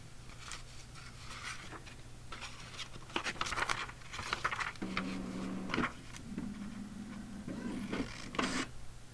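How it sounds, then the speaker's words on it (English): A printer whirs and clatters steadily, with irregular paper-feed scrapes and mechanical buzzes layered over a constant low hum. "That is my printer."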